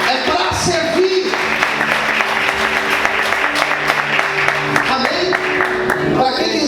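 A church congregation bursts into loud, dense applause that fills the room continuously, with voices and cheering mixed in over the clapping.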